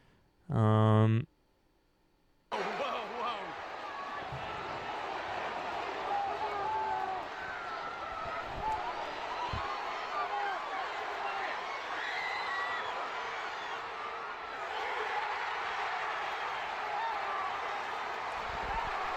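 A large stadium crowd in County Mayo roars and murmurs as a steady wash of voices with swells of cheering, heard after a short tone at the start, and someone talks over it.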